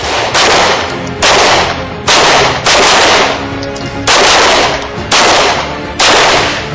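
Police trainees fire guns during a training drill, producing a series of loud, sharp shots roughly every second. Each blast rings out with a long echoing tail, and no voices are heard.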